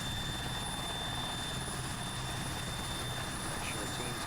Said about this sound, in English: So let's run over there and get on our helicopter.